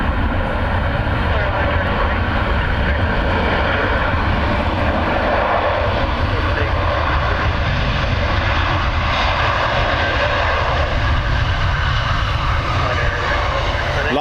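Airliner landing at Dublin Airport with thrust reversers deployed: a loud, sustained, broad jet roar that holds steady for many seconds, heard from a distance outdoors.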